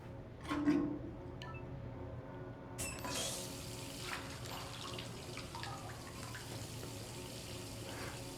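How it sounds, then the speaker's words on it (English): Water runs from a tap into a bath in the video game Detroit: Become Human, a soft steady rush with a few faint clicks and knocks from the fixture at the start. "I'll run you a bath."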